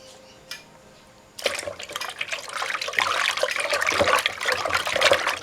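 Cassava dough for puba being broken up by hand in a small amount of water in a basin, with sloshing, dribbling wet sounds that start abruptly after a quiet moment and continue irregularly.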